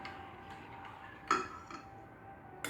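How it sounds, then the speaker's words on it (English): Ingredients stirred in a cooking pot: quiet, sparse clinks of a utensil against the pot, with two sharper knocks standing out over faint background hiss. "So now what you're gonna do is you're gonna stir it."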